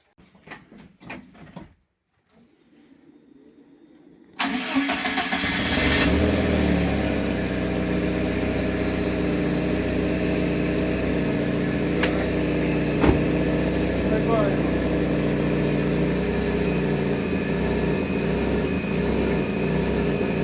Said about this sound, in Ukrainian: Зараз заведемо авто